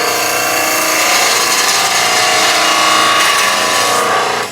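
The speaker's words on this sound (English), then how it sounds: "I'm going to use the heel of the skew to round over." A skew chisel rounds over a spinning wood spindle on a lathe, a steady loud hissing, rubbing cut with a constant whirring drone throughout.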